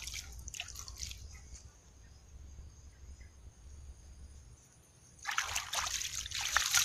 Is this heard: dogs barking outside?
no